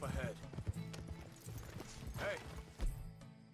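Horse hooves clip-clop across the ground in the video game Red Dead Redemption 2, a steady stream of soft thuds under someone talking, with a louder hoofbeat near the end.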